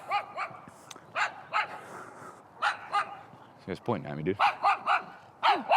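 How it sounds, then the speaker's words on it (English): Several dogs bark and yip in repeated short bursts nearby, with a brief whimper, mixed with someone talking casually. "Oh, dude, these dogs, bro."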